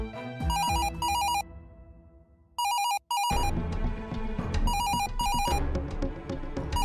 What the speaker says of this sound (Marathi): कुणीही फोन उचलायची गरज नाहीये.